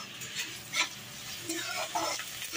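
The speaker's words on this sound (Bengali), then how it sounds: "লাল লাল করে বেরেস্তাটা ভাজতে হবে" Sliced onions frying in oil for beresta, a soft continuous sizzle marked by intermittent scrapes and light clinks as they are stirred in the pan, with no one speaking.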